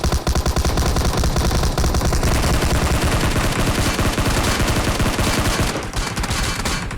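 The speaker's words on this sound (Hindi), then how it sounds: "अब जैसे ही मैं इधर आया फायर की आवाज़ होगी और बंदे भी दिख जाते हैं हमें" Loud, close automatic gunfire from a Vector in PUBG at Pochinki rattles in dense rapid bursts almost without pause, easing slightly just before the end.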